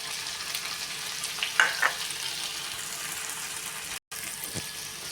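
Two chopped tomatoes go into a hot pan of oil for chole chaat, a steady soft sizzle with a couple of brief clinks and stirring scrapes partway through, close by and without talk.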